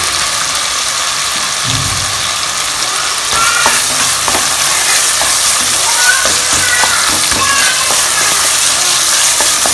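Large onions and curry leaves sizzle loudly in hot oil in a pressure cooker for mutton biryani, a constant close hiss with a few stirring scrapes, no one talking.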